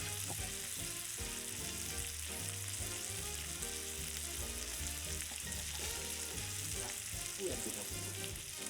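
Meatballs browning in a frying pan for cranberry meatballs, with a steady loud sizzle and crackle of frying and occasional stirring, continuous and close throughout.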